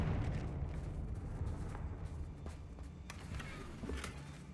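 A Confringo blasting spell explodes in a wizard video game against spiders, a low rumbling burst that fades out over a few seconds, with a couple of faint clicks near the end.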